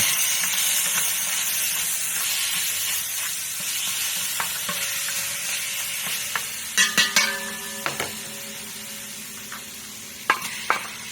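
Fat sizzles in a pan for venison chili while a spatula stirs it, a continuous close frying hiss broken by several sharp clacks and scrapes of the utensil against the pan.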